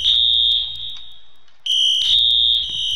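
Building fire alarm in the Roblox video game, a loud, piercing high electronic tone that sounds steadily, dips briefly, then resumes with a pulsing repeat, alone and without talk.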